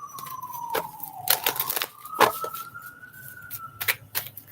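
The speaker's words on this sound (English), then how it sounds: "Sirens go off." A siren's steady tone slides slowly downward and then rises, repeated across a few seconds and broken by sharp clatters and knocks, with no voices.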